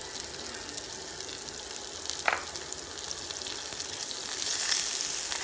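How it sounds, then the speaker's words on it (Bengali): Sliced onion and chopped garlic fry in oil over medium heat, giving a steady close broadband sizzle with a brief clatter midway and the hiss swelling slightly toward the end. "হালকা একটু ভেজে নিব, তবে বাদামি করার দরকার নেই"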